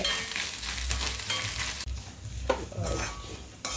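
Grated coconut roasts in a pan, giving a loud close hiss and crackle with spatula scraping and stirring, easing briefly midway before rising again.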